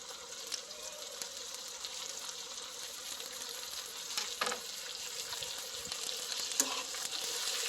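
Two medium-sized tomatoes frying in a pan with steady, soft sizzling and occasional stirring clatter, fairly quiet and continuous.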